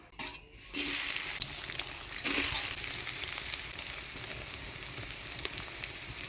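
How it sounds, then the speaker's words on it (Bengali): Soya chunks with turmeric and salt fry in a pan, bursting into a sudden hiss after a brief quiet moment, then settling into a steady close sizzle with occasional stirring scrapes. "হলুদ লবণ দিয়ে সোয়াবিনটা ভাজে নিব"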